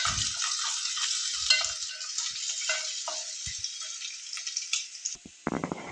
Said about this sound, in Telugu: ఆనియన్స్ వేసుకోవాలి రెండు పచ్చిమిర్చి కొద్దిగా లైట్గా గోల్డ్ కలర్ వచ్చే వరకు వేసుకోవాలి